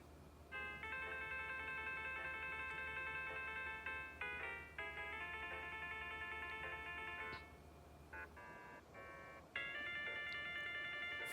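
Samsung Galaxy C4 ringtone "Donkey" plays as a clear, close melodic pattern of bright electronic tones in repeated phrases with short gaps, heard alone.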